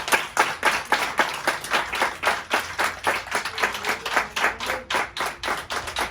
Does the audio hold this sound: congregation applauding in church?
yes